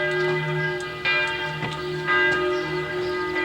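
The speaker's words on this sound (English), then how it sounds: "Hear the church bells?" Church bells of St. James Church in a German town ring out from the old town wall, steady resonant tolls with long sustained overtones, several strikes overlapping, moderately loud with faint outdoor background.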